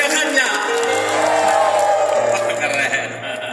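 A church congregation fills the room with loud, sustained cheering, whooping and scattered clapping that carries right up close and tapers slightly at the end, with voices mixed in.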